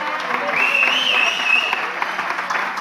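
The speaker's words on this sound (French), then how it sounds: "je vous invite tous à applaudir encore une fois pour Francine." An audience at a family birthday celebration applauding, with steady clapping and cheering under a voice and a high whistle or whoop near the middle.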